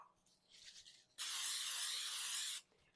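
Cooking spray spritzed into an 8x8 glass baking pan, one continuous hissing burst of about a second and a half, close and clear, after a quieter rustle.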